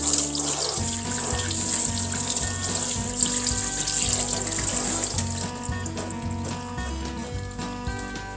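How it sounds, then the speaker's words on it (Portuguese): Meat rinsed under a running kitchen tap: a steady, close gush of water splashing into a sink, continuous throughout, with soft tonal background music underneath and no talking. "Agora eu vou dar uma lavadinha nela"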